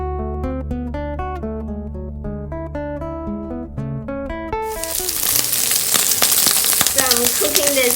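Pork belly dropped into hot oil in a wok, starting after soft harmonic background music and then bursting into loud, dense, crackling sizzle that continues steadily to the end.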